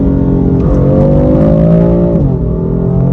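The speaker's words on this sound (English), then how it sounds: "Those downshifts are something else." A BMW M4 F82 on a highway downshifting, with a loud, steady engine drone stepping up in pitch then dropping sharply near the end, close and unaccompanied by talk.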